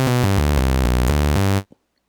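An initialized blank preset on the Vital software synthesizer plays a raw, buzzy sustained tone that steps through several notes over about a second and a half, then cuts off abruptly into near silence.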